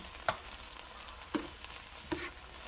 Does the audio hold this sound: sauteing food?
yes